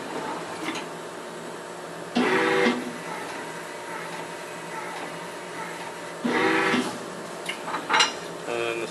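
A CMS CNC mill performs a tool change after the start command: two distinct bursts of mechanical whirring and clunking rise over a steady machine hum, followed by a few sharp clicks.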